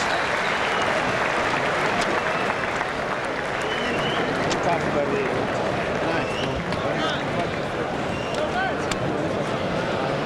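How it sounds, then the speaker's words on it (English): A South African boxing crowd rises to applaud fighter Ledwaba, a dense, steady wash of clapping and crowd noise that fills the whole stretch without pause. "South African crowd appreciative of their own as they rise to applaud Ledwaba"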